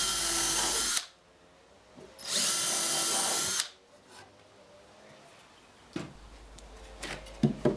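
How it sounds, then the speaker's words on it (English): A power drill pre-drills two screw holes in pallet wood while a centre rib board is fitted to a table frame. It runs in two loud, close whining bursts with a quiet pause between and light handling noises afterward. "Then pre-drill 2 holes for screws."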